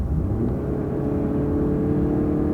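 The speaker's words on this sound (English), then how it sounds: "we're going 50, and we'll floor it" Small SUV floored from 50 mph, a steady low rumble and whir of engine and road noise building evenly from inside the cabin, with no talking.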